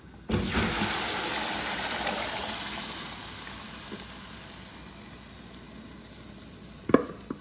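Strained lentils drop into a pan of golden-fried vermicelli, setting off a sudden loud sizzle that settles into a steady hiss and slowly fades, ending with a couple of spoon clinks while stirring.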